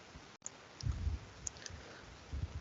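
Soft, sparse computer mouse clicks while building a Power BI paginated report, a few light taps spaced apart over faint room noise.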